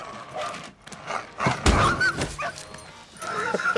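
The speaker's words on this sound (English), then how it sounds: "Look at this dog, man. This is the best dog ever." A dog barks and yips a few times at close range, with sharp bursts separated by short pauses over a quiet background.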